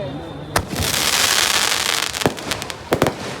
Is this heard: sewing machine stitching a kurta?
no